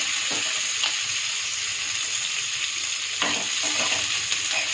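Onion and garlic fry in a pan for a hotel-style Kolhapuri vegetable curry, a steady loud sizzle throughout with a few soft stirring scrapes, close by and with no talking.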